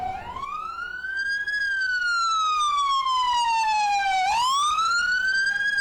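A loud, close emergency siren wails continuously, its pitch sweeping up and down in long smooth glides with no voices over it.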